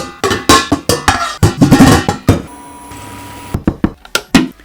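A steel pot in a home kitchen struck repeatedly, sharp metallic clangs in an uneven rhythm with a brief sustained ring in the middle, close and loud.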